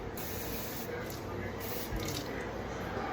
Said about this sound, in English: now I'm going to add a 1/4 cup of water